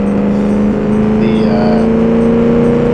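Car in BeamNG accelerating toward top speed, a loud, steady engine drone with a strong sustained tone that rises slightly in pitch, close and continuous throughout with no talk.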